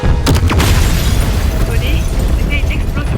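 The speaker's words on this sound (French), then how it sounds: "Tony, c'était une explosion gamma?" A gamma explosion in the video game Marvel's Midnight Suns erupts as a loud, sustained boom, with sharp cracking bursts at the start and a heavy rumble that carries on throughout.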